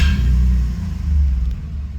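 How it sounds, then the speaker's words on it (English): A Jeep Liberty engine idles steadily after a check engine fault repair, a low, even rumble close by with no voices. "And now she starts and idles perfectly, and no check engine light."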